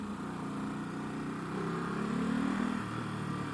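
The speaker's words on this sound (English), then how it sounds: "The sound of the exhaust pipe" A Ducati Supersport 950S's exhaust gives a low, throaty, steady rumble at fairly low level, its pitch rising briefly as the engine revs before easing back.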